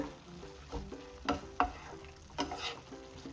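Snake gourd kootu being stirred in a pan, a spoon scraping and tapping the pan in several distinct strokes over a low simmer, fairly quiet with no talking.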